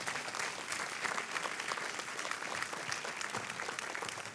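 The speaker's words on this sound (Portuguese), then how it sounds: "Dê uma salva de palmas a Jesus." A church congregation breaks into sustained applause, a thick, even wash of many hands clapping that continues at full strength throughout, with no distinct voices standing out.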